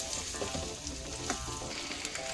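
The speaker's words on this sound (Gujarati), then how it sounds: "બટેટાને છે ને હલાવી મસાલો ચડાવવાનો।" Potatoes coated in spices sizzle in a pan while being stirred for a Porbandar-style chana bateta, a quiet, even frying hiss with small scraping bursts throughout and no talking.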